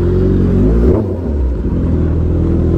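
Suzuki Hayabusa motorcycle engine held at a steady, loud rumbling idle with a light throttle blip, close by, no talk over it.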